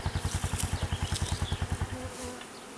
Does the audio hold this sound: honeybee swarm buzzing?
yes